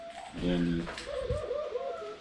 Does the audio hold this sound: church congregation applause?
no